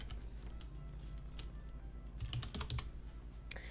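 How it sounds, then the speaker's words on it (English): Close-up typing on a computer keyboard on a Windows PC, a steady run of soft, rapid key clicks with a few louder taps near the end, with no talking. "get to the search bar, and type in advanced"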